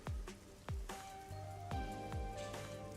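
Rain falls over a neon-lit city in the video game Master Detective Archives: Rain Code, a steady wash of patter broken by several heavy, low drips that land in an uneven rhythm, with no voices.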